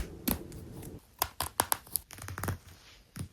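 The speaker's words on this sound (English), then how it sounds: "we're going to seam rip this middle basting stitch that we did earlier" Short, sharp snipping and tearing sounds in a few quick bursts as a seam ripper cuts basting stitches, close up with pauses between.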